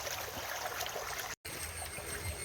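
A small village stream babbles and trickles continuously nearby, a soft, even burble with a brief break in the middle.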